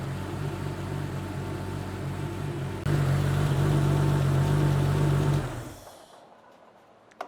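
A Porsche 3.2-liter Carrera flat-six idles steadily on an engine test stand, a loud, even mechanical drone that holds for several seconds before cutting off and fading to near silence.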